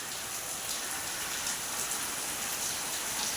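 Heavy rain falling on cotton fields, a dense, steady hiss of downpour drumming on surfaces, close and loud with no pauses and no talking.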